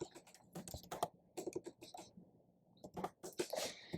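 Soft, quick keystrokes on a computer keyboard come in uneven bursts with a short pause midway, faint and close, as a title is typed into a spreadsheet.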